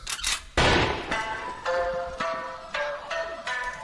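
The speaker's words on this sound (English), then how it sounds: "it starts off with a gunshot, which is quite the statement" A gunshot opening a song: a sharp loud crack cuts in at the start, followed by ringing tonal music hits.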